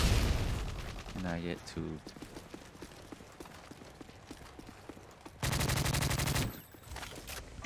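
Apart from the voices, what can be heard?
suppressed M4 rifle gunfire in a video game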